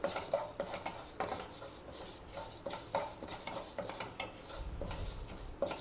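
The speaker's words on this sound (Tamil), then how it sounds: "ஒரு கால் கப்போட கொஞ்சம் கூட பாசிப்பருப்பு எடுத்து அதை லேசாக நெய்யில் வறுத்துக்கலாம்" A utensil repeatedly scrapes and stirs moong dal lightly roasting in ghee in a pan, giving rhythmic clinks and scrapes over a faint sizzle, close and quiet, with no talking.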